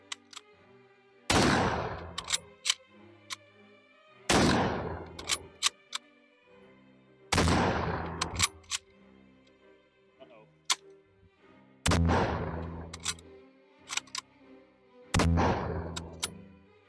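Five loud, sharp Mosin Nagant rifle shots fired at a target, spaced a few seconds apart, each with a long decaying echo, with quieter bolt-cycling clicks and clatter between them.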